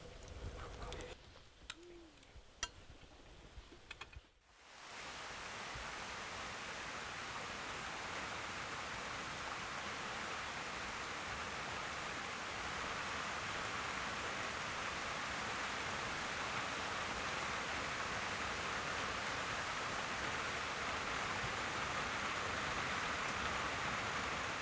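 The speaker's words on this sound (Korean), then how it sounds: "빗소리가 마음과 귓전을 세차게 때리는 오후" Heavy afternoon rain pours down steadily, a dense, loud hiss that swells in abruptly after a few quieter seconds and then holds unbroken to the end.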